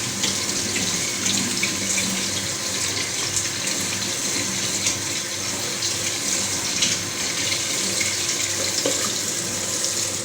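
Tap water runs steadily into a sink over peeled shrimp being washed for a Tunisian ojja, a continuous close splashing hiss with no talk.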